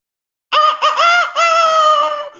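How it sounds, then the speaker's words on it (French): A rooster crowing as a sound effect in a told story, one loud, close crow of about two seconds after brief silence, heard alone. "on entend le coq chanter"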